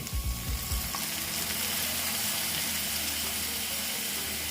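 Water poured into a spice mix frying with green chillies in a pan for an egg and potato dhoka dalna, first a loud splashing burst and then a steady close sizzle.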